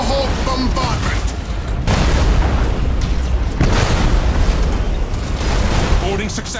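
Heavy Thunderhawk bombardment explosions in the Battlefleet Gothic 2 space battle, a loud continuous barrage of booming blasts and rumbling bursts filling the clip, with a battle voice calling out over it.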